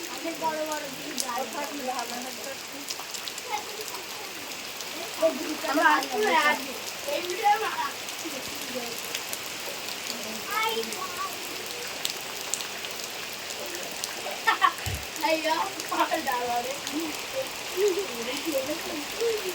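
Heavy rain pours down steadily in a village, a constant hiss of drops on surfaces running throughout, with children and adults talking intermittently over it.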